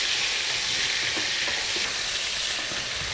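Bacon renders in a pan with carrot and celery stalk and a little oil, producing a dense, continuous close-up sizzle with faint crackles and no pauses.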